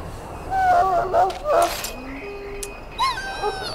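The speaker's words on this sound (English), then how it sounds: "That's the dog." A dog whimpers in the fantasy role-playing game Dragon Age: Origins: several short, high, wavering whines over about a second, then a softer whine later, all against a low background hum.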